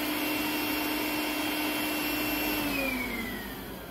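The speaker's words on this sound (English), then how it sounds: "Hitachi mini blower, RB18 DSL, with a modification. You have to take off the screw from taking it apart. It can be used as an impromptu sucker." Hitachi RB18 DSL cordless mini blower modified to work as a vacuum, a steady close whine with airy rush that holds level, then drops in pitch as it winds down at the end.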